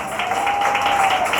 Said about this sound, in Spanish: Y exprese con un aplauso lo que su corazón le manifiesta al Señor en esta mañana.